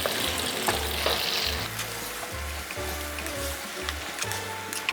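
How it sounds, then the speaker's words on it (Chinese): Diced tomato and onion stir-fry in butter in a pan, a loud close sizzle with bursts of scraping and tossing as the spatula moves, continuing without pause and without voices. "把切好丁的番茄放入， 洋葱，煸炒"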